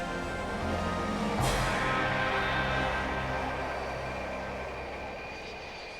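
Four engines of a V-bomber starting together, a broad sustained jet roar with a sharp surge early on, holding loud and steady before slowly easing off.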